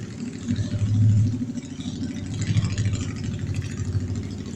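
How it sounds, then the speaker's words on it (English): A motorcycle engine idles and revs in a low, throaty rumble with rattling, rising briefly then settling, moderately close and steady. "Here's your token noisy motorcycle."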